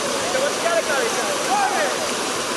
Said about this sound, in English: what's up with that fountain? It's a crazy in here, like a waterfall.